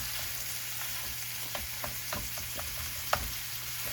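Ground deer meat fries in a pan, a continuous close sizzle with scattered spatula scrapes and taps as the lean meat is broken up, with no one speaking.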